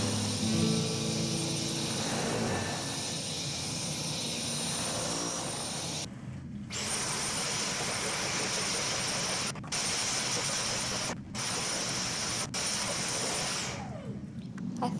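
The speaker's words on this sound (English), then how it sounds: "Now I need to vacuum everything because it's dusty" A vacuum cleaner runs while vacuuming a dusty room, a steady, fairly loud whooshing drone that briefly cuts out several times in the second half.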